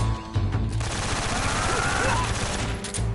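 Gunfire in Metal Gear Solid 3: Snake Eater, a dense burst of rapid automatic shots with some heavier single reports near the start and end, loud and close, without voices.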